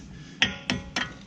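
A few sharp metallic taps sound as brake caliper pins are knocked back into place on a 2015 BMW F30 328xi during a front brake pad and rotor job, three distinct close knocks spaced about a quarter second apart.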